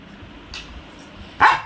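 A pet dog gives a single loud, sharp bark close by, after a softer yelp a moment earlier, begging for biscuits.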